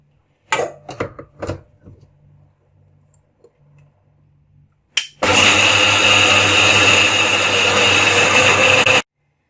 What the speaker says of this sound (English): I will add the soaked rice also, and we can just grind it together